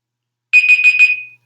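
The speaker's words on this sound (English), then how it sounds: "Okay, there's my timer." A timer alarm beeps in a quick burst of four pulsing high-pitched tones, loud and close in a quiet room, then cuts off with the start of another beep.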